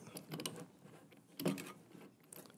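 The metal head of a cream whipper siphon being screwed back on, a few short close mechanical scrapes and ratcheting clicks of threads turning, quiet and without talk.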